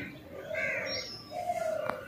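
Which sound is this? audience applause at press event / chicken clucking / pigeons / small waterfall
pigeons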